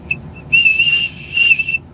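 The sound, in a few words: blowing a survival whistle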